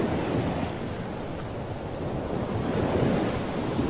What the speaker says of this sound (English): Oh, it's another day with a calmer ocean.